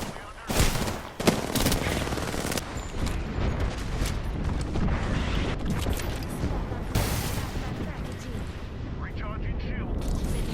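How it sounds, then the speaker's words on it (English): An airstrike barrage rains down in the video game Apex Legends: loud, continuous explosions and rapid gunfire roll on without a break, with voices calling out underneath. "Calling the airstrike."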